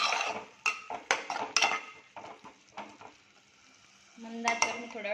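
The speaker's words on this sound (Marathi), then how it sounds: "भरपूर वाटण असल्यामुळे आपण व्यवस्थित परतून घेणार आहोत हे वाटण." Ground masala paste for a crab curry being sautéed and stirred in a pan, with repeated scraping and clinking strokes of a spoon against metal over a soft sizzle, pausing midway before a final burst of stirring.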